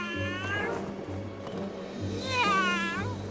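A cartoon cat stuck up a tree gives two drawn-out, pleading meows, one early and one near the end, over a steady low musical background.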